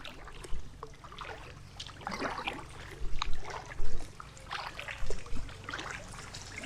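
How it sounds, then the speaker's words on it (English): Water runs off a bridge over the River Stour in Kent, trickling and splashing steadily nearby, with occasional louder bursts of spattering over a low background rumble; no one speaks. "You can see all the water running off the bridge there."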